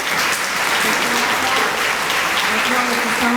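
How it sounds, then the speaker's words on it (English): An audience applauds throughout at a community Black History Month celebration, a continuous loud wash of clapping with faint crowd murmur beneath. "let's give a round of applause for our living history."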